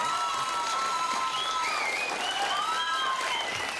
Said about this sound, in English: They always applaud when you mention a city